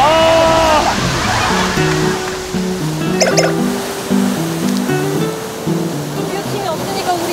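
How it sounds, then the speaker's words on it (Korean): Ocean waves wash and surge in a continuous, loud roar at a shoreline, with voices and a rising and falling melodic tone layered over the water. "파도가. 아, 나 저런 거 무서워."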